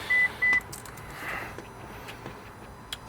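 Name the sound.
car ignition turned on, chiming with Haltech ECU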